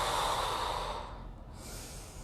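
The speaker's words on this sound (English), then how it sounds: "I'm really exaggerating my breathing for you to hear." One long, deliberately exaggerated breath from prana yoga practice, close and airy, fading out over about two seconds without any talking.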